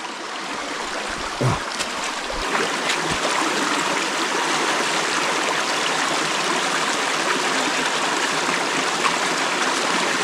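River water flowing steadily around someone wading across, a broad continuous rushing hiss with a few nearer splashes and knocks early on as the feet move through the water.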